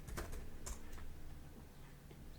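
Rapid keystrokes on a computer keyboard as terminal commands are entered, steady clicking over a constant background hiss.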